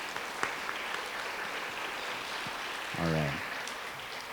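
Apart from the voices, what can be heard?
audience applause for Miss Davis's kindergarten class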